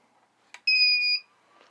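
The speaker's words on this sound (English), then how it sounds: "A very loud beep." A newly fitted main board in an Ender 3 3D printer gives a single loud, steady electronic beep of about half a second as it boots, following a soft click, in a quiet room.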